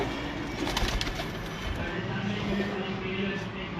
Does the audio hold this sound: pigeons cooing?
yes